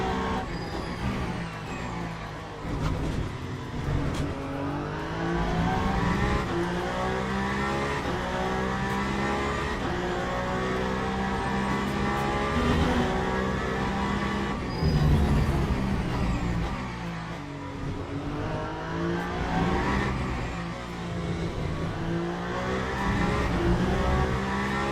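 A race car engine drives laps at Imola in the Le Mans Ultimate racing game, the car worn with overheated, damaged rear tyres; a loud, steady engine drone rises and falls through gear changes and revs, with no talk.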